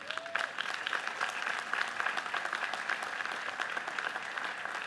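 An audience at a college commencement applauds, a dense, even patter of many hands clapping that carries on steadily at moderate volume, with no voices over it.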